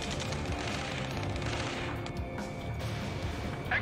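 Rapid automatic gunfire rattles through a video game firefight, a dense continuous barrage of shots and bursts with no let-up, loud and close throughout.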